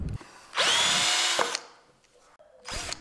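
A power drill pre-drills holes through a long wooden plank into a second plank, one sustained whining burst, then a short one after a pause, loud and close.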